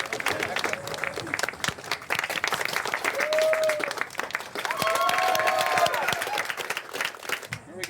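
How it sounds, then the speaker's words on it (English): Crowd applause played during a livestream reaction, dense clapping that holds at a fairly even level throughout while a few tonal sounds and faint voices drift over it. "Applause."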